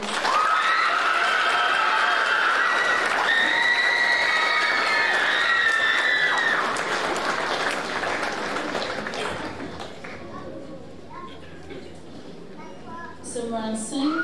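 Audience applause and cheering for prize recipients at Aorere College's 2022 senior prizegiving, loud crowd clapping with shouts and whistles that fades after several seconds, leaving quieter murmurs and a voice near the end.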